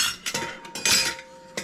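Metal measuring spoons clink and jangle together in a kitchen, a few bright, close metallic rattles in short bursts with brief pauses between them.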